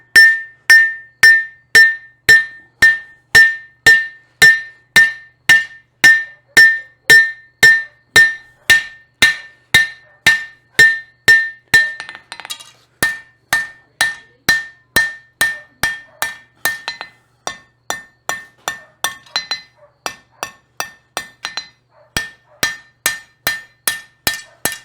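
A blacksmith hammers a scroll on the anvil horn, with about forty sharp ringing metallic strikes in a steady rhythm, a brief pause midway, then quicker lighter blows.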